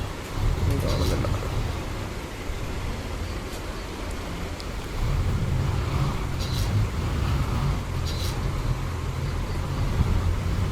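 A KSRTC bus engine from a sound mod in Euro Truck Simulator 2 drones low and quiet throughout, with a voice talking over it.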